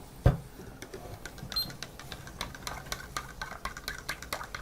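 Milk and syrup being stirred together for a cream latte, a quiet run of quick, light scraping and clinking strokes after a single sharp knock at the start, close but soft, with no talk.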